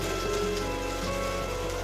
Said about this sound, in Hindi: कितनी जोरदार बारिश हो रही है।